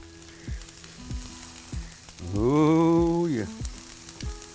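Soy sauce and sesame oil sizzle on a Blackstone griddle with a honey chicken stir fry, a soft frying hiss under regular spatula taps. It swells briefly while someone speaks a few words.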